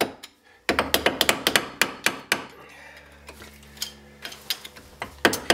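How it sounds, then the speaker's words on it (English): An old screwdriver struck with a big mallet to drive out a locking tab on a Lotus Elan M100 driveshaft: a steady run of sharp metallic blows, close and loud, with a faint ringing tail after the strikes. "get an unloved old screwdriver and a big mallet and just drive that out"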